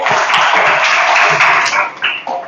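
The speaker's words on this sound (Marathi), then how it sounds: "टाळ्या वाजवा याच्यासाठी" Schoolchildren in a scholarship maths class clap their hands together in a brief, continuous round of applause that fades off after about two seconds.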